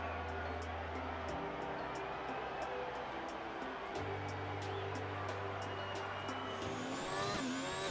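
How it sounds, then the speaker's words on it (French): An Alfa Romeo Formula 1 car lapping Albert Park in the F1 2019 racing game, its high-pitched engine whining steadily and shifting through gears, heard from onboard with a faint ticking over the drone. "On est ensemble à bord de l'Alfa Romeo de Kimi Raikkonen pour découvrir le tracé de l'Albert Park"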